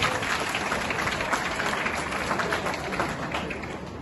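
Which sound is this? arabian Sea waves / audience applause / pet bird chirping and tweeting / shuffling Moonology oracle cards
audience applause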